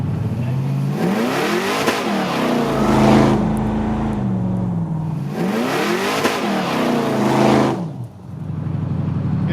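A 1964 Chevy pickup truck's engine revs up twice in long rising pulls with gear shifts, loud and close as the truck drives under its own power.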